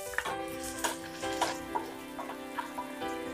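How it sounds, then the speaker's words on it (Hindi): Garlic frying in two spoons of hot oil over high heat for dal tadka, a soft steady sizzle with scattered sharp pops and crackles, fairly faint and close, with no voices. "तेज आंच पर लहसुन को बहुत अच्छे से फ्राई कर लेना है सुनहरे रंग तक।"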